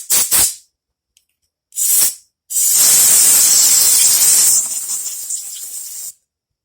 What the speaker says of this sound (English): A little bit of compressed air.